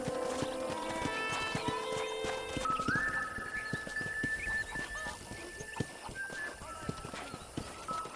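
Horse hooves clip-clop in a steady trotting rhythm in the Red Dead Redemption video game, heard under game music tones and a voice talking.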